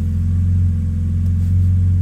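BMW E90 with an N52 engine idling after a PCV bypass install, a steady, smooth low hum and rumble held at constant speed throughout, close and fairly loud, with no voices.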